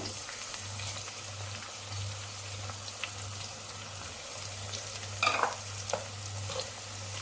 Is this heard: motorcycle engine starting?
no